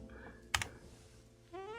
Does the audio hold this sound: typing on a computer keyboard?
yes